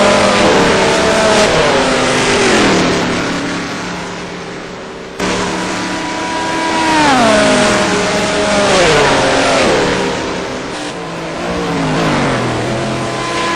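Large Mustang race car accelerating hard down the straight at Le Mans during a touring car event, a loud continuous engine roar climbing through the gears with brief dips at each shift.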